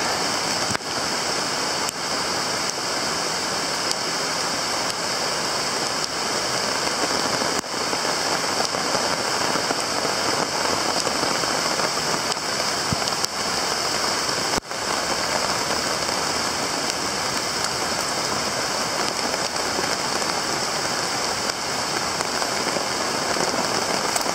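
Steady rain falling on a jungle hammock camp in Costa Rica, a dense, continuous hiss of drops on tarp and foliage, close and even throughout with no talk.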